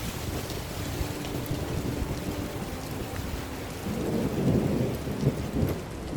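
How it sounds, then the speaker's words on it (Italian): Thunder rumbles low and heavy over steady rain and wind on a mountain hike near the Lancia refuge on Cima Palon, with the rolling growl swelling louder toward the end; no one speaks. "inizia a piovere, stavolta me la prendo tutta"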